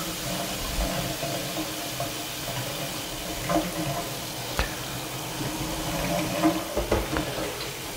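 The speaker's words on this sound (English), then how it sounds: "Let's see what cold water will do." Cold water pours from a tap in a steady, close stream during a gas law demonstration with a balloon, a continuous rushing splash with small bumps as the flow hits something.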